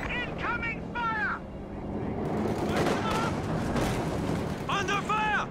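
Incoming artillery and gunfire in the Company of Heroes 2 video game: rumbling explosions and bursts of gunfire, loud and sustained, with voices calling out over the battle at the start and end.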